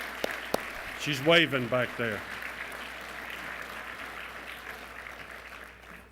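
A banquet-hall audience at a scholarship brunch gives steady, broad applause that rises and then holds under someone speaking over it, with a few sharp claps standing out early.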